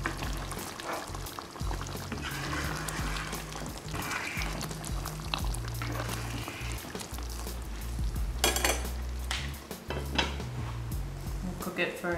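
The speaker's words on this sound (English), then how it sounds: "Make sure while it's cooking that you stir it." Butter chicken cooking in a pan is stirred with a utensil, giving steady scraping and clinking against the pan over a low background hum, with some louder knocks toward the end.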